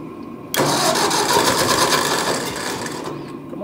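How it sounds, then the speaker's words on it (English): An old 600 engine turned with the key: a loud, continuous cranking whir begins abruptly and runs for about three seconds, fading slightly toward the end without a clear catch, up close in an enclosed space. "She actually cranks better cold than she does warm."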